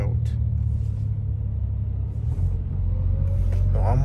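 A Porsche 911 of the 992 generation drives on the road, giving a constant low engine and road rumble inside the car. A brief voice is heard faintly near the end.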